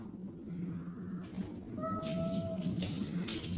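A pet cat gives a single drawn-out meow, fairly faint, rising out of a low background hum in a quiet room.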